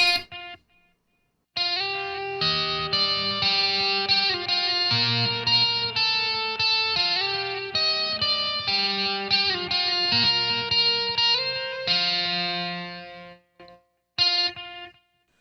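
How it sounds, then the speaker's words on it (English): Distorted electric guitar through a VOX Amplug 2 Metal with delay, playing a lively melodic line, each note trailed by repeating echoes that smear into the next; loud and up front, with brief pauses near the start and end. "there'll be an obvious difference once we go to delay, because this is what it sounds like with delay"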